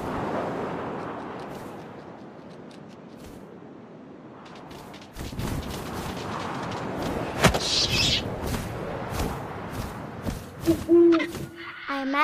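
Owl hooting in the video game What Remains of Edith Finch, deep hoots over low wind ambience, followed by louder rustling and thuds.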